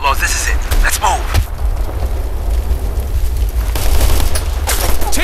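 Sustained, loud bursts of gunfire and booming blasts roll through a battle in the Operation Flashpoint: Red River military shooter game, with voices faintly mixed into the din.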